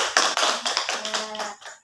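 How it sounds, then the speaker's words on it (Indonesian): A small group at a training session claps for someone speaker, a short run of close, distinct hand claps that thins out and stops, with a faint voice in the middle. "Kita tepuk tangan lagi ya untuk Ibu nggih"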